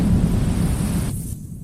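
Thunder from an approaching storm at sea rumbles loudly as a deep, continuous roll that fades out near the end.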